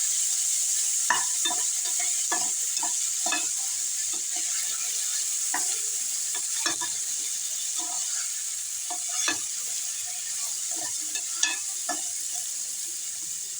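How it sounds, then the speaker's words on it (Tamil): Chopped tomatoes being stirred into a frying pan for rice upma, a steady sizzle with repeated scraping and clinking of a spoon against the pan. "இப்போ தக்காளியும் போட்டுக்கலாம்."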